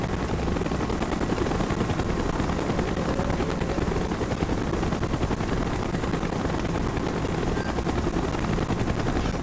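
Helicopter approaching in the Call of Duty Black Ops mission Executive Order, a loud steady rotor drone filling the whole stretch with dense mechanical noise and no talk over it.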